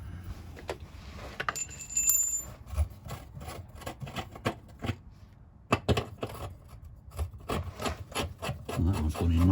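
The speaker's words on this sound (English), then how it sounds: "Just run that tap nicely through." Thread tap run by hand through a bolt hole on a Fiat Ducato spare wheel carrier mount, giving close, irregular rasping and scraping strokes with small metallic clicks, no talk.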